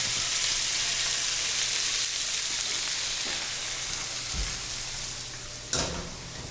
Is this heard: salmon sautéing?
yes